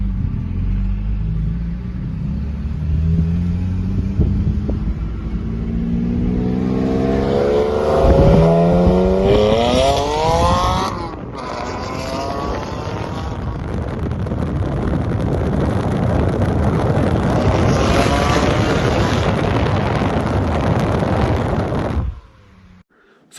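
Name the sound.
Porsche 718 GT4 with Akrapovic over-axle pipes and JCR non-silenced exhaust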